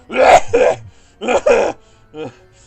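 A voice imitates a harsh, hacking cough, several rough bursts in a row, close and loud.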